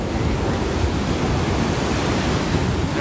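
Ocean surf rolling onto Pensacola Beach, Florida, a loud continuous wash of breaking waves mixed with wind buffeting the microphone, steady throughout with no voices.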